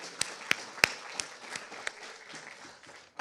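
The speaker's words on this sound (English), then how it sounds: "Let's give one last round of applause to our most recent warriors." Faint, thin applause from a convocation audience, with scattered claps that fade out over a few seconds.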